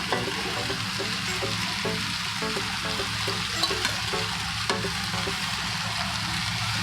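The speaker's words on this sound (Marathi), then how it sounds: "व्यवस्थित ढवळून घेऊया." Chopped vegetables, carrot, beetroot and cauliflower among them, frying in a pot for vegetable pulao, giving a steady loud sizzle with soft scraping as they are stirred, and no talking.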